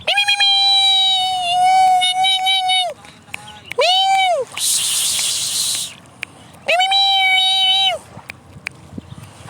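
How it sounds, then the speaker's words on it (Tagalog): A cat meows loudly and up close, three long drawn-out cries separated by pauses, with faint background noise between them. "Pusa, yun pusa."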